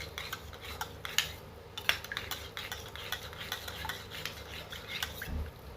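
Raw milk mixed with cumin, stirred with a spoon in a vessel: a steady run of light clinking and scraping taps, fairly soft and close, with no talking.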